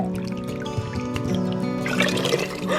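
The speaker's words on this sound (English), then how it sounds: "we're going to add the 3 cups of water" Water is poured into an Instant Pot for chicken noodle soup, a close trickling and filling sound that grows fuller toward the end.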